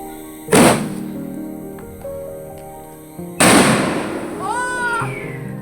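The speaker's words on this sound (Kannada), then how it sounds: "ಇದು ಪಟಾಕಿ ಹೊಡಿಸ್ತಾ ಇದ್ರು ನೋಡಿ ಮೇಲೆ" Two loud firecracker bangs burst a few seconds apart at a birthday celebration, each followed by crackling and a rising whistle, with faint voices nearby.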